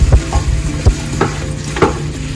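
Onions sauté in a pot under a steady hiss, with close, loud, irregular knocks and scrapes as a spoon stirs them, plus a low rumble beneath.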